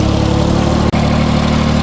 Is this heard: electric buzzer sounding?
no